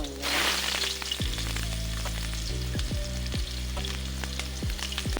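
Ginger and onion sauté in a pan for bola-bola with misua, spattering with a strong hissing sizzle while a utensil knocks and scrapes the pan at irregular intervals. No talking.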